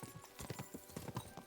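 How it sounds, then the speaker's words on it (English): Horses' hooves in the video game Kingdom Come Deliverance 2, a rapid, irregular clip-clop of several hoofbeats, moderately close and steady throughout. "We should spur the horses on."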